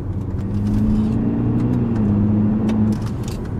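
A car's engine revs through a newly installed exhaust valve, a loud, close, steady droning rev held for a few seconds, then easing off.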